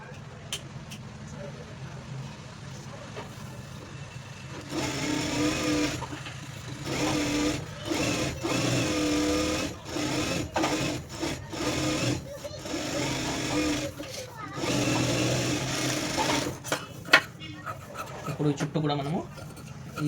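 A sewing machine stitches a blouse in several close bursts of rapid whirring, separated by short pauses, while a voice talks on and off between and over the runs.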